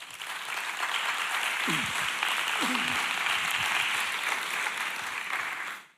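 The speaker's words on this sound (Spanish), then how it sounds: "Démosle un aplauso a Dios." Steady, dense applause from a church congregation holds for several seconds before cutting off sharply. A few faint voices rise briefly within it.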